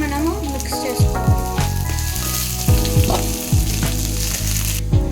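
Semiya vermicelli roasts with curry leaves in a pan, a steady close sizzle and crackle running beneath louder melodic, voice-like tones throughout.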